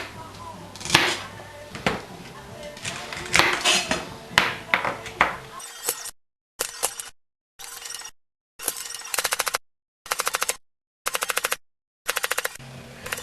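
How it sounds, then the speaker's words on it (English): A knife chops celery on a cutting board while vegetables are prepared for New England clam chowder, giving a run of sharp, crisp chops followed by evenly spaced bursts of rapid cutting. "we'll get right into chopping up the vegetables we need for the clam chowder"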